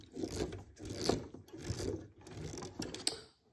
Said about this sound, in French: c'est du plastique, donc ça se visse bien